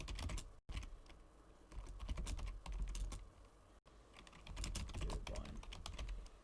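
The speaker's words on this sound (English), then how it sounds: "You might be able to hear the typing if you can." Someone types on a computer keyboard during a live online poker session, with rapid, faint clicking keystrokes coming in quick bursts with short pauses.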